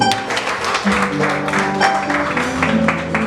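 A congregation applauds during a Haitian wedding ceremony in Brazil, with a dense wash of clapping mixed with voices and a steady musical drone underneath.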